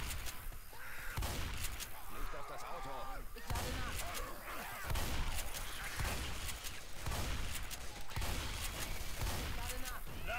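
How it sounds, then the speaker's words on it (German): Shotgun blasts in the Left 4 Dead 2 video game, loud bursts repeating every second or two across a dense, noisy game mix with talk over it. "Die Shotgun bringt's."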